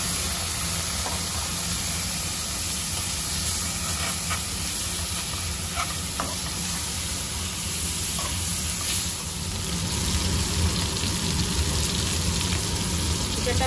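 Country chicken pieces frying in butter in a kadai give off a loud, steady sizzle and hiss that holds evenly throughout, with faint stirring clatter now and then.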